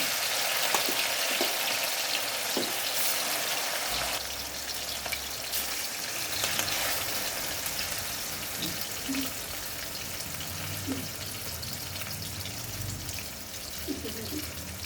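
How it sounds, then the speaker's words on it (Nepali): Chicken pieces fry in a pan for butter chicken, a continuous crackling sizzle near the listener with occasional clinks and sounds of stirring underneath. "चिकन फ्राई हुँदैछ"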